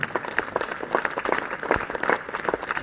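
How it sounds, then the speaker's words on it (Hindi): A church congregation claps together during worship, a dense, steady patter of many hands that fills the space at moderate volume with no voices over it. "सब अपने हाथ उठा के यीशु मसीह के लिए तालियों की भीड़"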